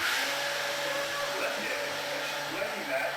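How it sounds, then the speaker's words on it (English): A kitchen blender runs loud and steady for the whole stretch, its broad whirring roar filling the space while people talk over it. "We're gonna try to talk over the blender."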